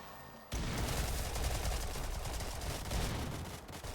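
Sustained rapid gunfire from snipers and combat in the shooter game Stalcraft, a dense fusillade of shots starting abruptly and continuing loud throughout.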